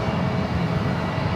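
A jet airliner at San Francisco airport gives a steady, broad engine roar at moderate distance, continuous with no voices.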